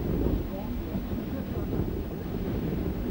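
Constant wind on the beach at Cherrueix buffets the microphone with a low, rumbling roar, a broad blustery noise that holds steady throughout.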